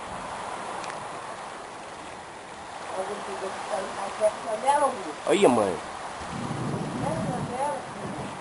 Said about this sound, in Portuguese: Impressionante a força do vento na cidade de Rolândia.